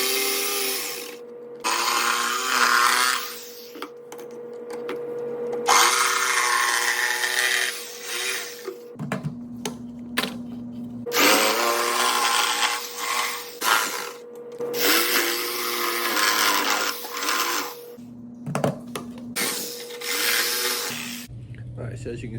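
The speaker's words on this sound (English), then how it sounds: "jigsaw to make all these cuts" A jigsaw cuts an Easter bunny shape from wood, its loud buzzing motor running in long bursts separated by brief pauses, with a voice talking in between cuts.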